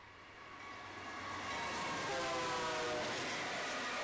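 A freight train led by a BNSF locomotive rolls past a trackside webcam, its rumble swelling louder while drawn-out horn tones sound over the passing cars.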